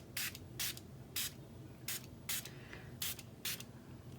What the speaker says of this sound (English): Now we'll give this another spritz.